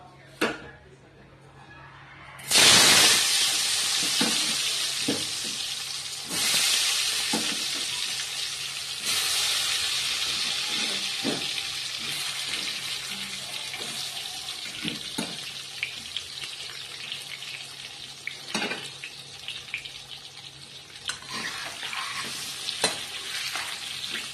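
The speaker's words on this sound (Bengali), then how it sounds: "এবার আলুগুলো আগে থেকে হলুদ লবণ মাখিয়ে রেখেছি, এবার এগুলো ভেজে নেব।" Turmeric- and salt-coated potatoes slid into hot oil in a wok, a sudden loud hiss after a quiet start, then continuous close frying sizzle with periodic stirring scrapes and clinks.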